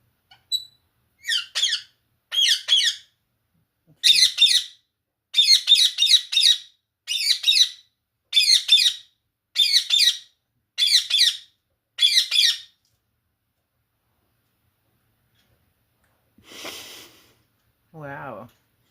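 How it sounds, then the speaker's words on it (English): A pet parakeet gives a run of loud, harsh squawks in quick bursts, about a dozen close calls in rapid sequence, then pauses before a couple of softer, lower chirps near the end; no talking. "Maya, that's very quite the voice. Louder than a normal parakeet"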